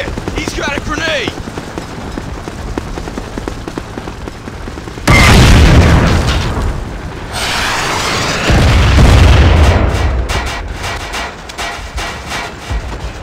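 A grenade blast in the Half-Life mod Heart of Evil, a sudden loud broadband boom at about five seconds followed by a second heavy burst, with lighter gunfire-like crackle between and a voice speaking over the earlier part.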